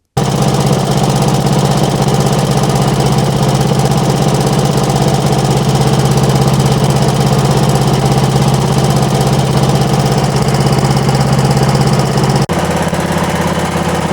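Wheel Horse Raider 9 garden tractor engine with electrical issues, running loud and steady nearby with a rapid thumping idle that shifts slightly near the end, no talk.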